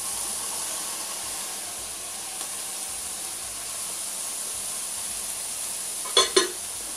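Celery, green pepper, partly cooked broccoli and carrots sizzle in a chicken stir fry pan, giving a steady, even hiss throughout with a couple of brief utensil clinks near the end.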